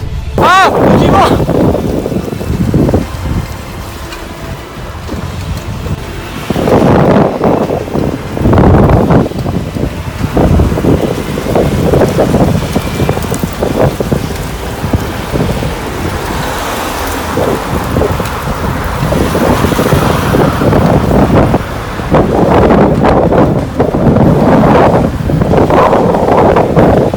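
Strong gusts of wind buffet the microphone in a loud, continuous roar with surging bursts through a stormy downpour, with people speaking in between the gusts.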